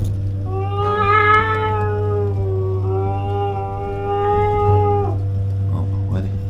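A house cat meows in a long, drawn-out, wavering call, then a second shorter meow, close and fairly loud over a steady low electrical hum.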